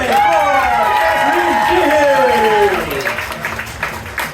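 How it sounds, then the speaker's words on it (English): Audience applause carries on at a live improv-style science comedy show, mixed with whooping, cheering voices that ride over the clapping before it thins out toward the end. "Keep that applause going for"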